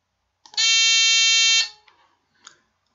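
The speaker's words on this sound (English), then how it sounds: "the temperature increases and I get alarm" A sensor-triggered Arduino alarm buzzer on a Raspberry Pi setup, going off as the temperature rises: one loud, steady electronic tone held for about a second, then cut off, followed by faint clicks.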